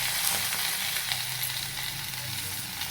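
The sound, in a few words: green chillies shallow frying in a covered pan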